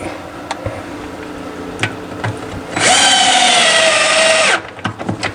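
A power drill drives 1 1/4 inch pocket hole screws through a wooden top on a tool stand. One rising whine lasts nearly two seconds, loud and close, with light knocks and handling noise before and after.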